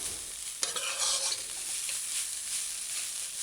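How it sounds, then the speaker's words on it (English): Veggie soy mince is stir fried in a pan over low heat. A spatula scrape opens a steady, soft sizzle that carries on alone without speech. "you're just gonna stir fry the veggie mince like this"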